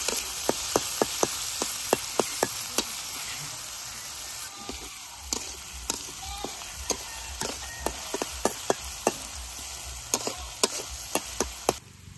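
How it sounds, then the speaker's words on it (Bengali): Onion and garlic fry in oil with a continuous sizzling hiss, punctuated by a rapid series of sharp ticking pops or spatula taps spread throughout. "পেঁয়াজ রসুন ভালোভাবে ভেজে নিচ্ছি"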